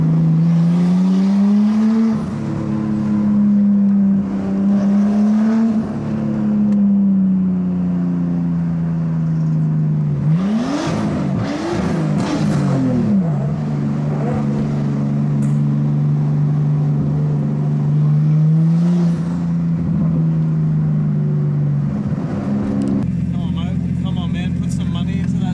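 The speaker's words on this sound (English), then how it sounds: "But the car seems to be running healthy now." Nissan R33 Skyline engine running smoothly after a new Walbro 255 fuel pump is fitted, a steady close idle hum with a few brief revs rising and falling, while someone talks over it throughout.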